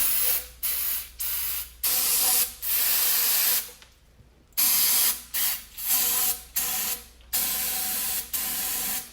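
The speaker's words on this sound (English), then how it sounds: "brake clean, and just spray it down in the inside" Repeated short bursts of brake cleaner aerosol spray hissing close up, roughly a dozen blasts with brief gaps and one longer pause midway.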